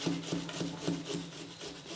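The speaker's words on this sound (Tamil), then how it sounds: "இப்போ இந்த மாதிரி கேரட் துருவலில் திருவிடலாம்." Peeled vegetables rubbed across a carrot grater, producing a steady series of about eight rhythmic rasping strokes, close up and without talk.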